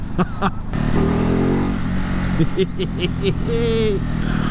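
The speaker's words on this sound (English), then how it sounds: "It's just got one of those, just those bwop, bwop, bwop, bwop, brap engines." Ducati Hypermotard 950 motorcycle, a 2019 model, revving and pulling away with a choppy, pulsing engine note in short bursts, a voice talking over it.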